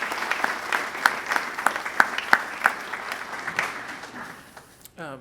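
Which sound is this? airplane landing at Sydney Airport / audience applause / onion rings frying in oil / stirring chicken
audience applause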